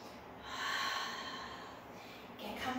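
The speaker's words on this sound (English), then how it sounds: "I want you to really get used to the sound of your own breath as well." A pilates participant breathes audibly during a beginner mat workout, a long breathy exhale swelling then fading, with a quieter second breath near the end, close and alone.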